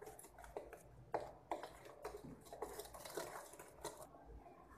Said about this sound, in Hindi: हमने अपनी मलाई में चीनी को मिक्स कर लिया है।